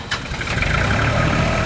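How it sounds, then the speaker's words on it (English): A tractor engine cranking and catching, a brief starter burst giving way to a steady, close mechanical rumble that holds at a constant loudness. "13-year-old Shane Harkin started up the tractor this morning"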